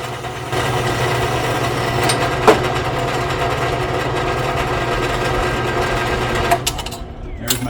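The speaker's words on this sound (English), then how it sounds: "When it gets to the point where you just have two thin sides you're cutting through, you can actually let it speed up just a bit." A power saw cutting through a piece of metal stock, a steady droning motor hum with a grinding, buzzing cut that holds level throughout, with a sharp clink near the middle and the motor winding down at the end.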